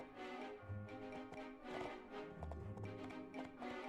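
Galloping horse hooves in the video game My Time at Portia during a race, a steady drumming clip-clop mixed with game music, fairly soft and continuous.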